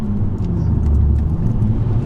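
A two-wheel-drive Edition 30 project car accelerates hard on the road, its engine a close, heavy, continuous rumble and drone throughout.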